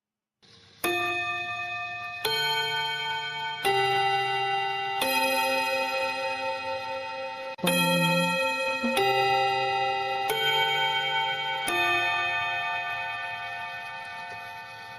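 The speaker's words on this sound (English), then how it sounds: "It's a school chime that they always use in anime and that actually is being used in some schools in Japan." A Japanese school chime of the kind used in anime rings out as a slow melody of about eight clear bell tones, each struck note ringing on and overlapping the next before a long fading tail.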